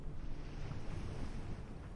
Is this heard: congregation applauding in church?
no